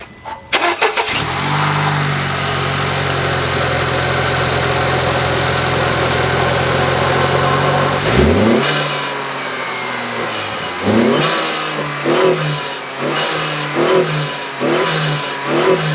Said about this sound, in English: Let's do our first ever start with this new cold air intake.